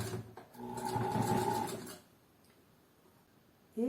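Sewing machine backstitching a dress seam hums in a short, close run of about a second and a half, then stops, leaving near silence with a brief thump at the end.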